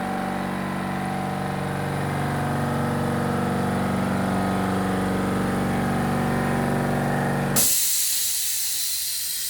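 An AEG AC3060S silenced 3.0HP 60L air compressor runs with a steady motor drone as pressure builds toward about 150 psi, then abruptly cuts out with a sharp release hiss before falling quiet.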